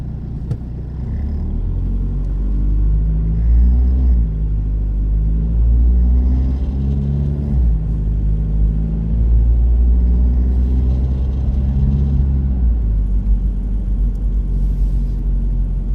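Steady low rumble of cars moving through heavy, slow traffic on a cold winter drive between Gatlinburg and Pigeon Forge, heard from inside a vehicle as a continuous close engine and road drone with no talking.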